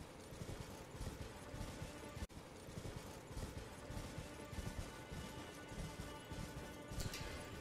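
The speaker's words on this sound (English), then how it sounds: "Horse moves fast too." Rapid, continuous hoofbeats of a galloping horse over a busy soundscape in the video game Elden Ring, with a sharp break midway and clattering throughout.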